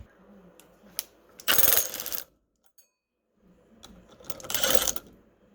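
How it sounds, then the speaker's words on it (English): A 3/4 socket works loose the flywheel bolt on a 6.5 hp Honda clone small engine, giving two loud bursts of metallic ratcheting clicks separated by a near-silent pause. "I'm going to take a 3/4 socket and remove the flywheel bolt"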